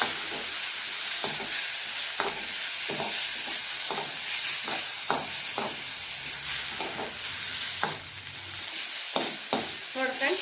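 Tomatoes softening in oil in a pan while cooking for a moong bean sambar, a continuous close sizzle broken by regular scraping stirs of the spoon, with no voice over it.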